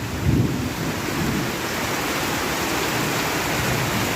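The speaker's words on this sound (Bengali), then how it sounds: "প্রচুর পরিমাণে বৃষ্টি হচ্ছে" Heavy Kalbaishakhi storm rain pours steadily in rural Faridpur, Bangladesh, with a low rumble of thunder rolling near the start, then a dense, continuous roar of rainfall that stays loud throughout.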